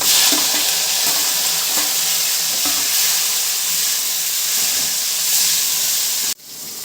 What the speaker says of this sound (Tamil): இப்போ வெங்காயம் வந்து நல்லா பொன்னிறமாக வந்துருச்சு இப்போ வந்து தக்காளி போடுறோம்